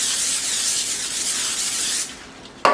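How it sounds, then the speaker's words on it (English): Butter-flavored cooking spray hisses steadily from a can onto the tops of 18 items in a home kitchen, one continuous close spray lasting about two seconds, followed by a short sharp clatter. "take my butter spray, and I'm going to spray the tops of"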